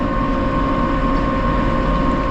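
A tractor engine drones steadily and loudly while driving on a road, its continuous rumble unbroken throughout, with a Case 115 C and an MF 266 Gold in a tractor race.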